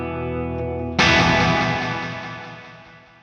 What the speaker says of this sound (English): So we have a plate, which is naturally kind of a brighter sound, and a space delay, which is kind of going after that space echo